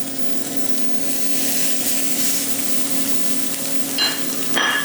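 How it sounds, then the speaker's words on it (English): Seasoned salmon fillets laid skin side down in a hot pan give a steady, close sizzle and crackle that runs the whole time, with a couple of brief sharper spatters near the end. "And you want to see that sizzle when you get started."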